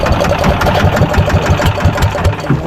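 A very old engine runs steadily and loudly nearby, a low rumbling idle with a rough, pulsing rhythm and no talk over it.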